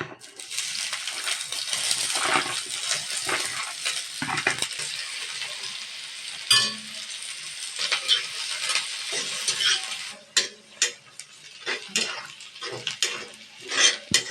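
Sliced onion sautéing in hot oil in a pan for a brinjal fry, with loud continuous sizzling, a spoon stirring and sharp metallic clinks against the pan toward the end.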